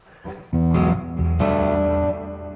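An electric guitar plays a few distorted chords through a Fender Deluxe Reverb amp, ringing and sustaining with a warm, slightly muddy tone and no voices.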